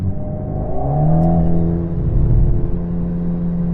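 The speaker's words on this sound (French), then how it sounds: "Freine si tu veux faire pivoter. Et c'est bon, accélère." An Alpine A110 accelerating after braking on a track, its engine note climbing and swelling into a loud, close, steady drone with tonal whine, heard alone without talk.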